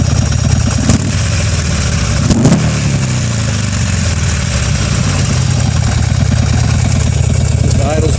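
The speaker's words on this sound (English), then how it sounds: "The idle's beautiful." Air- and oil-cooled Buell Ulysses XB12X motorcycle engine idling steadily and evenly at close range, a loud continuous low throb with a faint rise around two and a half seconds.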